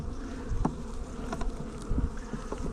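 Honey bees drone continuously around hives in an apiary, a close, steady buzz with individual insects swelling louder as they pass near, no voices.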